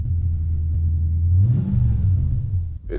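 Car engine that has broken down and is under repair, revving up from a low rumble to a louder, rising roar before settling, close and clear with no talk.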